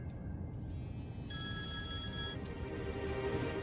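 A telephone rings in a short repeating electronic ring, steady and fairly close, with no voices over it.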